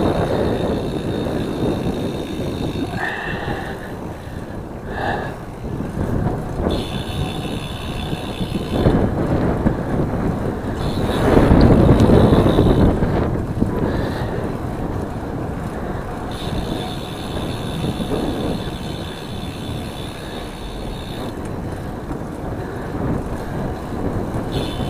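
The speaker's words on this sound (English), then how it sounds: "Kind of windy now." Steady wind buffeting a microphone, a rough low rumble running throughout with a louder gust near the middle.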